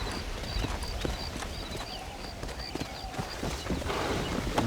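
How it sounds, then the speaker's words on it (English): Horse hooves in Red Dead Redemption clip-clop in a fast, steady gallop rhythm over a rumbling outdoor background, with a faint high chiming tone repeating. "I actually did not want to ride this horse."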